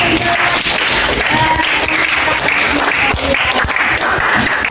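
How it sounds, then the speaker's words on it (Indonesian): Classroom audience at a university teacher-training session gives a sustained round of applause, dense and even throughout, with a faint murmur of voices beneath. "Oke, kita sedikit applause."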